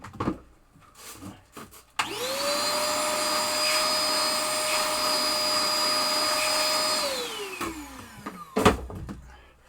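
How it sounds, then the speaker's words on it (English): A vacuum cleaner starts up with a rising whine, runs steadily for several seconds over a 1973 Williams Triple Action pinball playfield, then winds down, with scattered handling clatter before and after. "just go vacuum it off"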